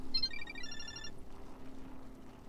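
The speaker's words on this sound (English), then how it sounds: "That's my phone." A mobile phone rings with a bright, repeating electronic ringtone for about a second, heard on a city street beside a bike lane over low steady traffic rumble, then stops.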